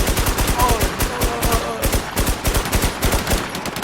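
Rapid automatic gunfire from the online shooter game Infestation, a loud dense stream of evenly spaced shots with a brief break, while players shout excitedly over it.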